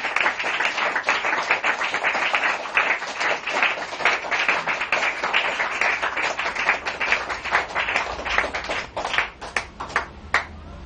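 A church congregation applauds at a worship service, the clapping dense and sustained for several seconds, then thinning into scattered individual claps near the end.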